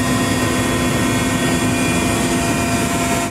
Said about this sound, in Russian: Вертолет Ми-8 авиационно-спасательного звена совершает облет от залива Пасьет до бухты